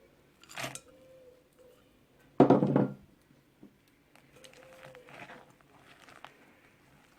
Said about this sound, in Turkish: Bu şekilde karıştırıyorum.